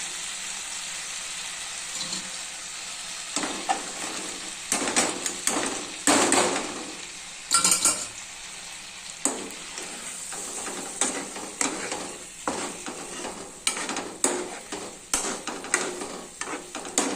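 Fried potato and cornflour snacks are tossed in sauce in a pan, giving a steady sizzle under repeated scraping and clattering stirs. Sharp spoon-on-pan knocks come in uneven bursts throughout, close and fairly loud, with no talking.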